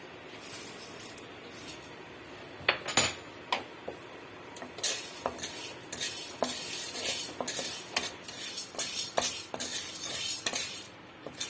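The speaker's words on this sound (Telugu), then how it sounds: "శనగపప్పు కూడా ఇదిగో వేయించేస్తానండి, అయిపోయింది." Chana dal being dry-roasted in a pan while making kandi pudi, with repeated metallic scrapes and clinks of a spoon stirring against the pan, fairly close and steady, no talking.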